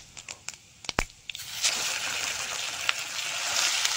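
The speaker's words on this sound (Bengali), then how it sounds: "তেলের মধ্যে গোটা সরষে দিয়ে দেবো।" Whole mustard seeds hit hot mustard oil in a wok and break into a steady, bright sizzling hiss after a few scattered clicks and taps at the start, close and moderately loud, with no voices.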